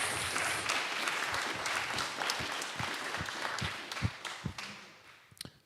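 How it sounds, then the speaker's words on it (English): Applause from an audience at the close of a talk and discussion event, fairly soft and thinning out, with scattered individual claps standing out toward the end. "So finally, a big round of applause for all of you."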